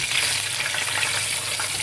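Eggs frying in hot oil with a pinch of turmeric, a steady close sizzle and crackle running evenly throughout with no voices.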